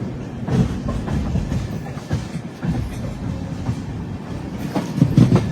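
The Tirupati–Hazrat Nizamuddin Rajdhani Express runs along the rails with a loud, steady rumble and a continuous clickety-clack of wheels, heard close and uninterrupted throughout.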